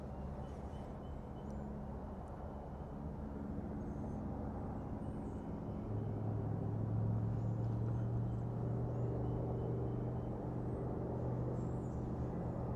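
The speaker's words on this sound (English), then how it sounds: "even if it is a bit noisy with traffic this morning" Morning road traffic carries through cold outdoor air near mountains at sunrise, a steady broad rumble that swells into a louder, closer pass of a vehicle engine in the second half, with no voices.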